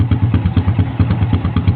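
A motorcycle engine idles close by during a battery and charging-regulator check, giving off a steady, lumpy throb with rapid rhythmic thumps and light mechanical clatter the whole way through.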